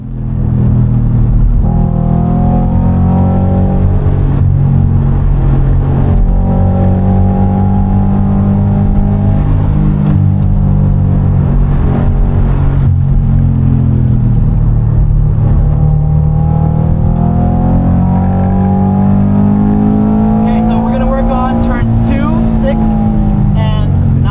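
Subaru BRZ track car lapping a circuit on a track day, its engine loud and close from inside the cabin, pitch rising and falling through gear changes and corners, with voices talking over it much of the time.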